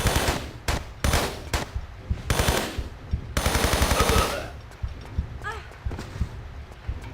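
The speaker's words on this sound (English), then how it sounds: "Who's shooting me?" Rapid bursts of gunfire aimed at the player in the video game Tomb Raider 3 Remastered, loud close cracks in clustered volleys followed by scattered fainter shots and game effects.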